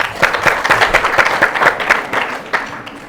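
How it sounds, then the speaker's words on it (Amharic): A studio audience at a children's TV quiz show applauds a contestant, a dense burst of close clapping with uneven rhythm that thins out toward the end. "ዲ እሺ አጨብጭቡለት።"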